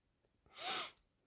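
One quick sneeze with a sharp intake of breath just before it, close and quiet in an otherwise hushed room during a scrapbooking craft session.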